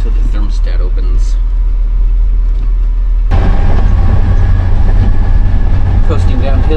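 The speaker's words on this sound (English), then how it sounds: "Coasting downhill in first" A 1988 Chevy truck with a 454 engine coasts downhill in first gear, giving a steady engine and road drone that grows noticeably louder and rougher partway through.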